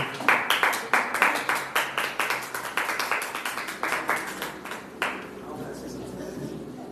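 An audience claps at a ceremony honouring local chroniclers in Ecatepec, with a dense burst of many hands that keeps going for several seconds and then thins out.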